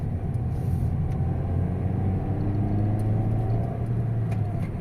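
A Toyota Corolla fitted with a smart clutch system pulls away in second gear, its engine giving a steady low rumble and hum from inside the cabin with no talking.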